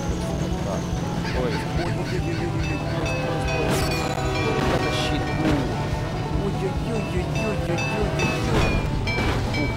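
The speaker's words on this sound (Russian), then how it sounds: "Я не думал, что мы сможем поезд буквально в смысле этого слова развалить." Train smashing apart in the Faily Brakes driving game, a dense, loud wall of crashing, grinding and horn-like tones running steadily throughout, with a voice talking over it.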